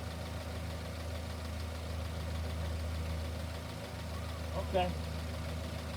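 Honda car engine idling, a steady low rumble heard throughout with a brief rustling knock near the end, and a voice says a single word.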